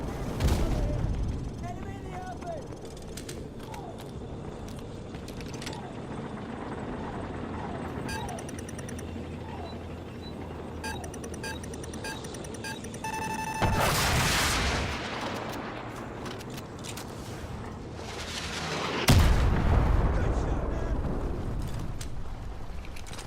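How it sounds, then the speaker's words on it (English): Heavy gunfire and artillery in the video game Modern Warfare Remastered, a dense continuous rumble of battle with distant booms and a couple of louder blasts, and shouted voices running through it. "we're taking heavy fire on our position north of the overpass!"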